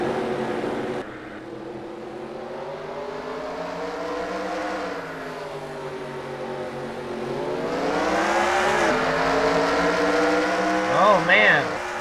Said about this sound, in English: The cars are getting ready to roll off here.